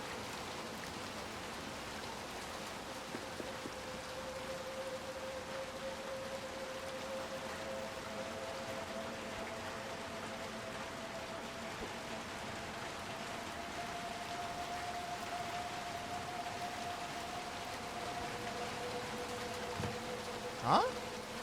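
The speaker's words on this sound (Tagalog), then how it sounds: "It's literally raining" Rain falls steadily as a faint, even hiss that carries on throughout, with a low tonal hum underneath and a brief knock near the end.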